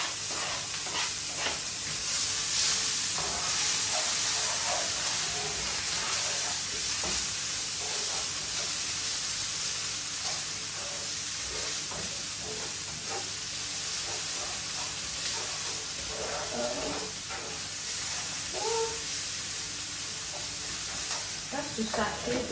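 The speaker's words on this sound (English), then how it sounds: "To saute the onion." Onion sizzles steadily in a hot pan on a home stove, a constant bright hiss with occasional stirring scrapes, while a person talks intermittently over it.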